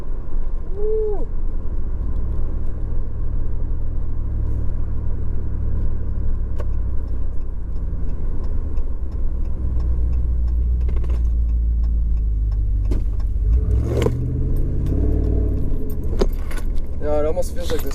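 Pickup truck fitted with a Carven Competitor Series exhaust and K&N cold air intake, driving with a steady low engine rumble and road drone throughout, shifting near the end with a rising surge; jingling keys and brief talk occur inside the cab.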